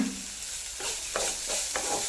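Food sizzles and is stirred in a hot clay pot, with a steady frying hiss broken by several scraping stirs at a regular pace, close up and with no talking.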